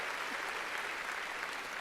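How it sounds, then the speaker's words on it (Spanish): Church congregation clapping loudly for the Lord at a Spanish-language worship service, a dense steady wash of applause with no break. "A ver, démosle palmas fuertes al Señor."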